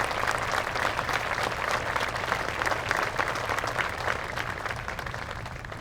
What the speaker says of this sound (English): it's really good when people clap before you even open your mouth